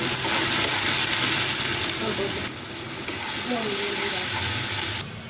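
Fish roe fries in a pan over a lit kitchen stove, giving a loud, continuous sizzle with some stirring scrapes throughout.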